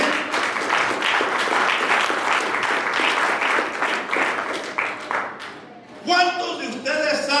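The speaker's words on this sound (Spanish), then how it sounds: "denle un aplauso al Señor" Church congregation applauding during a Spanish-language sermon on spiritual fatigue: dense, steady clapping for about six seconds that thins out, then a voice talks over the fading tail.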